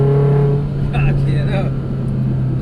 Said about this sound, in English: Screams, doesn't she? Screaming pipe is pretty loud.